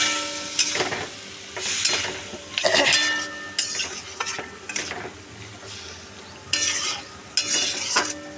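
Spice masala sautéed in oil in a pan for a katla fish curry with potato and taro, giving repeated bursts of scraping and stirring over a steady sizzle, with several strokes in quick succession.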